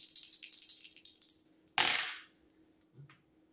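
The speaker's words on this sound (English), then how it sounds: "rolling the dice to see what I need to shuffle the deck to" Dice are shaken in a hand with a light rattling clatter, then tossed down in one sharp tumbling burst, followed by a faint small knock; no one speaks.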